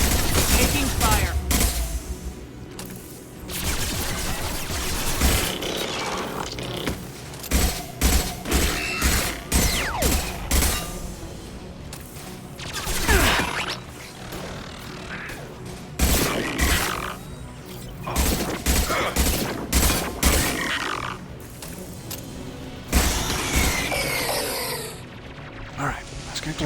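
Gunfire in the sci-fi shooter Mass Effect 2, bursts of shots and impacts recurring in irregular clusters over half a minute, loud and close, mixed with crashes and thuds.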